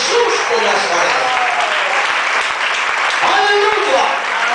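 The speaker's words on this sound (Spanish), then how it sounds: "Denle un aplauso fuerte a Jesús de Nazaret." A church congregation breaks into loud, continuous applause for Jesus, a dense wash of many hands clapping at once, close and steady for the whole stretch with faint voices mixed in.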